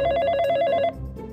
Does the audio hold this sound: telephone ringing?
yes